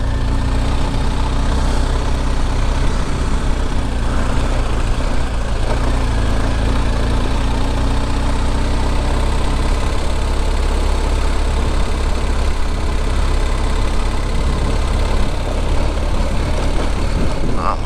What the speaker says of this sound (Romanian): Să urcăm cu motorul, nu cu piciorul.